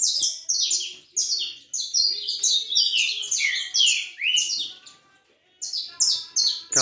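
Caged saffron finch (canário-da-terra) chirping in fast, bright bursts of repeated notes with a brief pause, close and clear with no talking, on a cold day.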